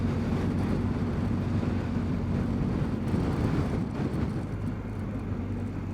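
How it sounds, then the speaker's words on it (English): Strong wind buffets a hilltop in the Brecon Beacons in South Wales during a motorcycle tour, a constant loud roar with a low rumbling drone running underneath throughout. "it's quite windy as well up here"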